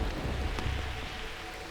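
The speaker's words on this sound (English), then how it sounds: "The nightly rains in the jungle." Heavy rain pours down at night in the jungle, a dense, steady hiss of drops striking leaves and ground with a deep low rumble underneath, close and loud throughout with no voices.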